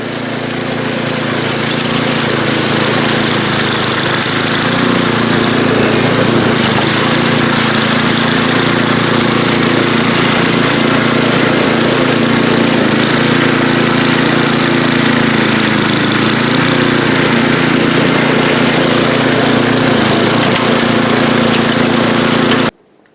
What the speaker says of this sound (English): So let me see if this thing will snow blow.